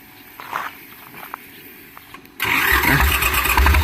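An Iseki TS3110 tractor engine cranks and catches, bursting into a loud, rough idle through an aftermarket racing exhaust after a few quiet seconds of shuffling and footsteps.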